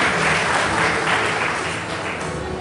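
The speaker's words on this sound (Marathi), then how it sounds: "जोरदार टाळ्या त्यांचं आपण अभिनंदन करू" Applause from an audience at an award presentation during a commerce teachers' conference inauguration, dense, steady clapping that stays loud throughout.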